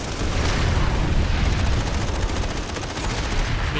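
Heavy weapon fire in a free-to-play sci-fi shooting game, a loud, dense burst of booming blasts and rapid gunfire filling the whole clip with no talking.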